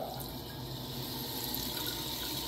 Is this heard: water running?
yes